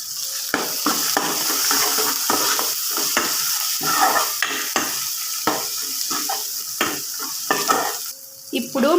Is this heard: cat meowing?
no